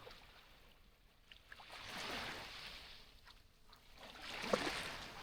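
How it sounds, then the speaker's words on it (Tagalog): Water waves wash against a slightly rocky beach shore on Bonbon Beach sandbar, Romblon Island, Philippines. The surf sounds soft and rolling, with two fuller surges swelling and fading over a quiet background. "mapapakinggan nyo yung hampas ng tubig at nakaka-relax lang siya"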